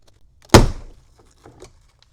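A plastic door card popping free from its clips on a Fisker Ocean rear door gives a single sharp crack followed by a few faint knocks and rustles.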